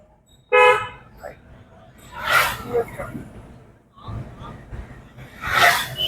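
A short, loud car horn toot rings out in traffic during a driving lesson, then a person speaks and breathes audibly as vehicle noise continues in the background.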